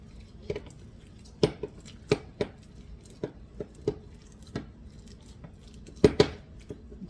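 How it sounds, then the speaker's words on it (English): Hands squish and mash almond bun dough in a bowl, giving a series of soft, wet squelching thumps at an uneven rhythm, close and moderately loud with brief quiet gaps between presses. "I'm just going to use my hands and mash all this together and make it work"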